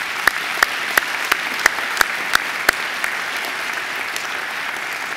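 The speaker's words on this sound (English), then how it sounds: "So I think Angela deserves another great round of applause." Hands clap for Angela at a Macquarie University graduation ceremony, sounding as sparse, evenly spaced claps that ring out crisply for a few seconds and then die away, leaving quiet hall ambience.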